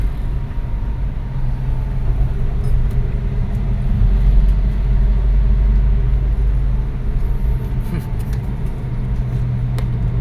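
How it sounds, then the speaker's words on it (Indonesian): Inside an ambulance on the Trans Irian road, a low steady engine and road rumble drones continuously, with occasional faint rattles and knocks from the vehicle. "Ya, ini mobil ambulans."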